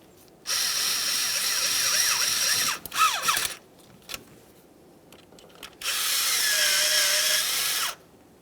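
A power tool drives ignition control module mounting bolts on a 1999-2006 Chevrolet Silverado 1500 4.3L V6, buzzing loud in two long bursts with whining pitch changes and a brief ratcheting clatter between them.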